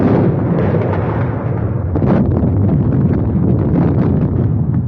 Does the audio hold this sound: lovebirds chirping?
no